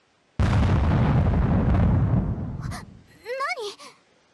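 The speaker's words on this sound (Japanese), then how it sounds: "山上で爆発のようです。" A sudden huge explosion on a mountain in the 7 Days to Die video game, a loud booming blast that rumbles and slowly fades, followed by short sharp bursts and a few rising and falling electronic tones.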